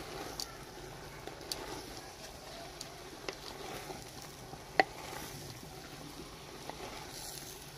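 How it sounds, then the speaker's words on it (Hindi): Village-style mixed vegetables with cauliflower are stirred in a pan after frying, a faint low scraping and sizzle broken by scattered light clicks of the utensil. "अब करेंगे मिक्स।"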